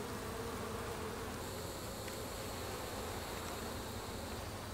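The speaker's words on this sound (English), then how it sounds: "Looks like we've got a lot of bees working this side and working this side." Honey bees buzz steadily around an opened new hive during an inspection, a continuous dense droning hum close by with no talk over it.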